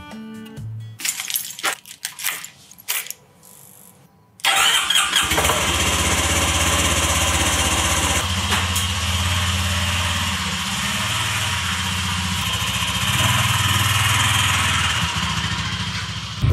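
A motorcycle engine starts after a few seconds of small clicks and handling noises, then settles into a steady, loud idle that continues close by for the rest of the clip.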